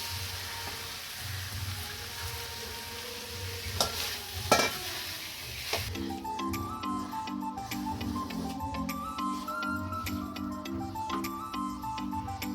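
Boiled dal for a dhaba-style egg tarka hits hot spiced oil with a sharp splash and sizzle, then a steady bubbling fry under rapid, rhythmic ticking as a spoon stirs the pan.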